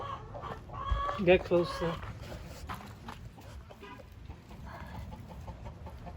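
Chickens cluck and squawk close by, a few agitated calls early on, while a person speaks briefly.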